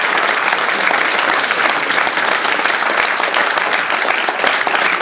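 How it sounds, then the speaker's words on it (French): Political rally audience in a hall applauding warmly, a loud, dense and steady roar of clapping sustained throughout with no speech over it. "et je pense qu'on peut les applaudir."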